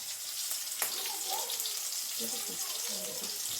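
Spices for dal tempering (bay leaf, dried red chilli and slit green chilli) crackle and hiss in hot oil, a steady broadband sizzle with a sharp pop near the start, continuing under faint background noise.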